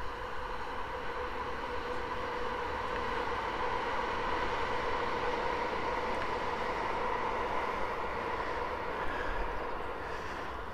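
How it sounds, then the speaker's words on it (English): A steady, broad rumble of a passing train in the countryside along the North Downs Way holds at an even level throughout, somewhat distant, with no voices. "Here's a train on that train line,"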